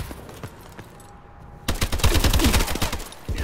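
A slow-firing gun in the Call of Duty Advanced Warfare video game: a few spaced shots at first, then a louder, denser run of repeated shots in steady succession.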